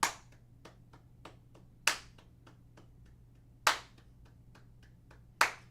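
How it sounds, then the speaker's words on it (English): Hand claps in a steady eighth-note pulse, with louder accented claps every six beats and softer claps between, crisp and close with no voice. "the notes that I'm clapping, they're 8th notes"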